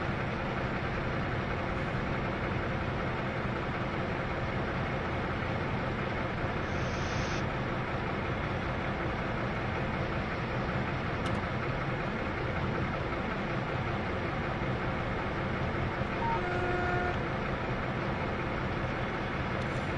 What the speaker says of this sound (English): you can definitely hear the engines